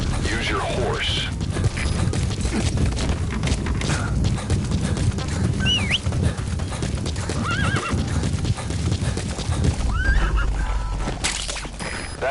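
Horse hooves clip-clop steadily while a horse whinnies a few times, set against a dense, busy background in the video game Metal Gear Solid V: The Phantom Pain.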